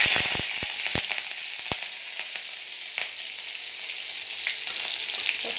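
Green chillies fry in hot oil for a soybean chilli dish, with sharp pops and crackles over a steady sizzle, fairly close and moderately loud, no voices.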